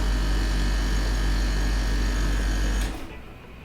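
A phase change cooler compressor runs during a PC benchmarking session, giving a loud, steady mechanical hum with a buzzing edge that cuts off abruptly near the end, leaving a faint residual hiss.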